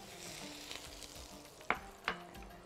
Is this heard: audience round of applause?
no